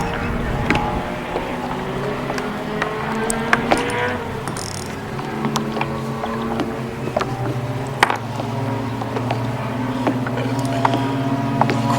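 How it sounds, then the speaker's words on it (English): Racing motorboats on a lake heard from a kayak, their engines droning and whining at varying pitches in the distance with mechanical clicks nearby, steady and moderately loud with no talking. "Quite like the sound of the motorsport in the background"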